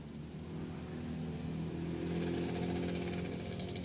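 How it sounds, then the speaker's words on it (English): A motorcycle rides past outdoors on a calm day, its engine rising steadily from a moderate drone to a louder, fuller growl as it draws nearer, fairly faint and distant overall. "we gotta wait for our motorcycle to go by"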